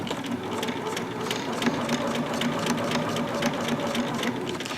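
A sewing machine stitching fabric runs steadily at close range, a fast even mechanical whir with rapid rhythmic clicking that continues throughout without talk.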